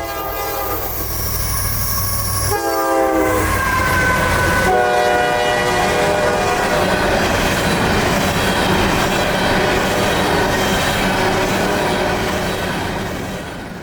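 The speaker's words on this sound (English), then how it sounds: "an Orlando coal train would show up out of the darkness returning from OUC" A loud CSX train horn blares over rumbling wheels at night in 1982, then the steady clatter and roar of a long coal train rolling past nearby.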